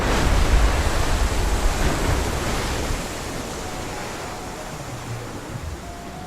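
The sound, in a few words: geyser erupting in the video game Red Dead Redemption 2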